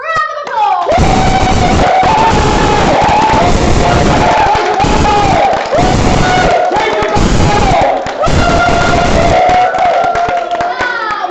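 Theatre audience giving a round of applause and cheers for the actors after an evening's performance; loud, sustained clapping and crowd noise fill the whole stretch with steady intensity and a few brief dips.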